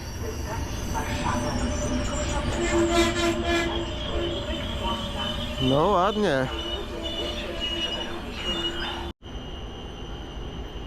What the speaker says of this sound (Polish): Pociąg przyjechał punktualnie.